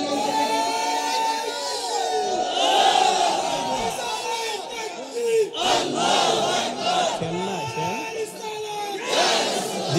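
A large crowd at an open-air Bengali Islamic sermon gathering roars out a slogan in unison, loud rising and falling shouts that swell and break off in repeated waves, with a leader's voice calling between them.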